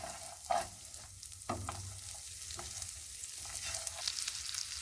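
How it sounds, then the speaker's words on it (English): Walnuts and lemon zest sautéing in butter in a pan, a soft, steady sizzle with a few scraping stirs and clinks of the utensil, close by and fairly quiet. "Keep stirring the walnuts and the zest with the butter, making sure nothing catches."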